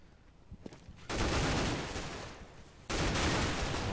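Sustained automatic AK rifle fire in a Counter-Strike match on de_dust2, loud close bursts rattling on after a quieter opening, cutting out briefly and then resuming at full intensity.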